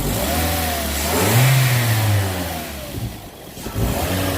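A Toyota Yaris fitted with an e-force throttle unit, not yet plugged in, revs its engine, a loud close mid-pitched roar that climbs, holds, drops and surges again alone.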